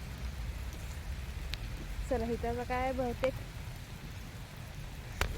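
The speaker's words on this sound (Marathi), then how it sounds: "खरोखर मोठाच पाऊस आला रे बापा मोठा पाऊस आला" Heavy rain falls steadily outdoors near a palace, a continuous wash of drops with a short burst of a man's speech partway through.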